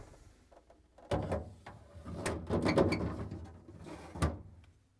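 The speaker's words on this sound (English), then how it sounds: "We need to place it onto the rail and slide it in." Plastic vegetable pans of a GE refrigerator slide onto their rails, giving a few close scraping, sliding knocks and bumps, one after another.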